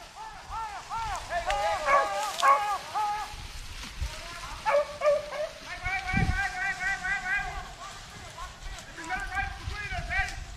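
Hunting dogs baying during a rabbit hunt, with repeated high, wavering yelps and howls in quick bursts close by, and brief human voices and rustling underneath.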